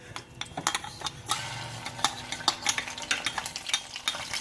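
Mustard and fenugreek seeds roasting in hot oil, a close crackling sizzle with rapid pops and stirring scrapes that grow busier toward the end.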